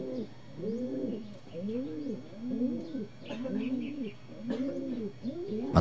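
A racing pigeon coos in a steady repeating rhythm of low, rounded calls, close by and fairly quiet, with faint chirps and slight background noise between the coos.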